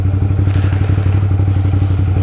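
Big bike motorcycles riding past on a Sunday road ride, a loud, throbbing engine rumble with steady rapid pulsing and some rattling clatter, close by and continuous.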